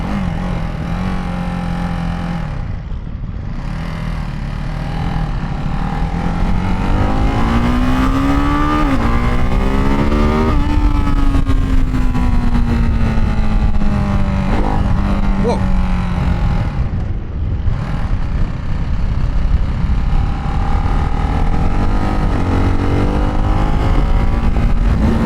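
A Ducati Hypermotard 698 single-cylinder motorcycle is ridden with a loud, continuous engine note heard up close. The pitch climbs through the gears, with brief drops at each shift before it builds again.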